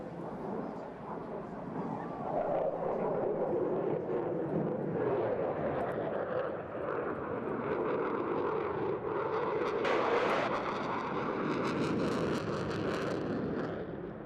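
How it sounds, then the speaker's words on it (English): An RAF Typhoon jet with EJ200 engines flies past at an Eastbourne airshow, a continuous loud roar that swells and shifts as it passes, alone without speech. "you can see the glow of those EJ200 engines roaring away"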